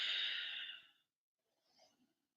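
Loud, constricted ujjayi yoga breath rushes out in one long hissing exhale through a tightened throat, followed by a softer, fainter breath after a pause.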